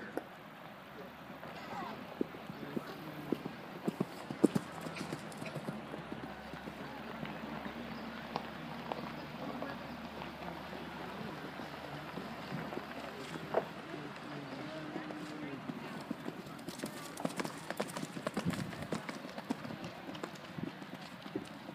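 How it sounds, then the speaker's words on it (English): Horses cantering in a show ring at a county horse show, with steady, fairly faint rhythmic hoof clip-clop throughout amid ambient crowd noise and occasional voices. "Entry, show your horse at the canter."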